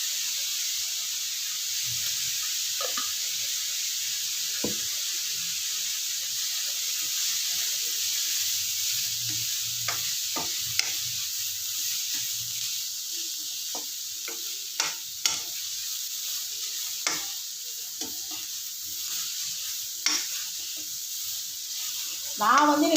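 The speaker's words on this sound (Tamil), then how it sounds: "இந்த வெங்காயம் வதங்கட்டும்" Chopped onions sautéing in an oil-filled pan with turmeric for a Mysore masala dosa filling, giving a steady soft sizzle and hiss throughout, with occasional stirring scrapes and light clicks.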